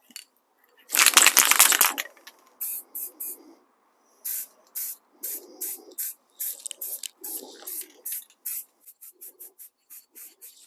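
Satin Black spray paint hisses from an aerosol can onto Honda Civic Type R wiper arms, first in one long burst and then in many short, quick puffs, close and crisp with no talking.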